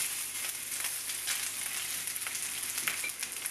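Yaki onigiri, Japanese grilled rice balls, fry in a pan with a close, even sizzle and small crackling pops throughout, no one speaking.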